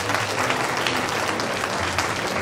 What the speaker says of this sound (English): Mr. Shakiru Lawal. Please clap for him.